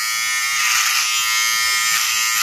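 An electric hair clipper buzzes steadily and close up while cutting curly, unruly hair, a continuous high-pitched motor whine with no talking.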